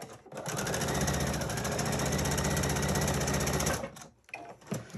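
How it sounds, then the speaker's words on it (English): A sewing machine stitches three fabric pieces together at a quarter-inch seam, running in a loud, fast, even mechanical chatter for several seconds, then stopping, followed by faint handling noises. "we're going to sew these 3 pieces together at your 1/4 inch seam allowance"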